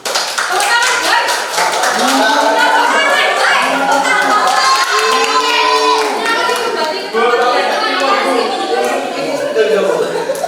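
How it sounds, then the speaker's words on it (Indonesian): A classroom group applauds with scattered, uneven claps amid lively chatter and children's voices that run throughout. "Tepuk tangan, guys."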